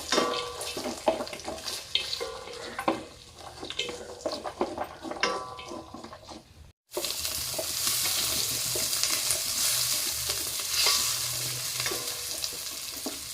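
Garlic and kanthari chilies sauté in a pan, a constant close sizzle broken by frequent stirring scrapes, with a brief cut midway before the frying continues.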